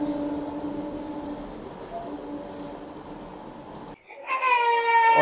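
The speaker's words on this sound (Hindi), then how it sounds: "फिर से एक ट्रेन आ गई है" A train rumbles past steadily for about four seconds, loud and close. After a short break, a child's loud wailing cry takes over.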